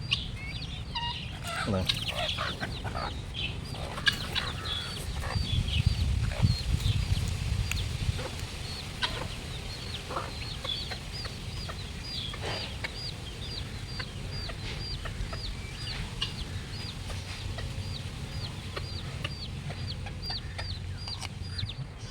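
Chickens cluck repeatedly in an outdoor village setting in Tamil Nadu, with short rhythmic clucks throughout and occasional louder calls, while people talk nearby.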